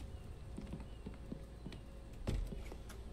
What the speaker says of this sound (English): There's a sheep going past.